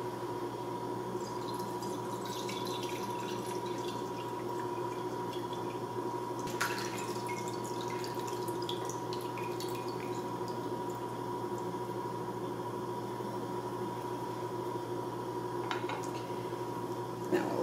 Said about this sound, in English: I'm going to pour off some of this juice right now.